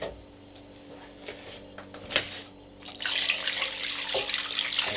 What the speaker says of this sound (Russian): И заливаю чистой холодной водой.